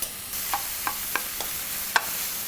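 Onions and garlic sizzling in a pan, an even frying hiss punctuated by several light spoon taps and scrapes at irregular intervals, no voices.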